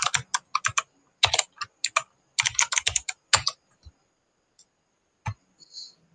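Someone types the ipconfig/renew command on a computer keyboard: quick clusters of crisp, close key clicks in uneven bursts, then a few isolated taps, with no talk.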